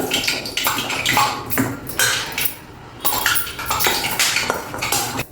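Chickpea pakora batter being mixed with hot oil in a bowl, with repeated clinks and scraping taps of a utensil against the bowl in an irregular rhythm, close and fairly loud, no talking.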